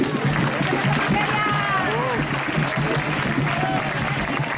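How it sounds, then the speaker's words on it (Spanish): Studio audience applause on a television program, a continuous wash of clapping with voices and whoops mixed in, steady and fairly loud throughout. "¡Aplauso!"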